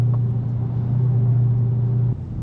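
A 2023 Dodge Challenger Black Ghost rumbles on a track, its engine holding a steady low drone heard from close by that cuts off abruptly near the end.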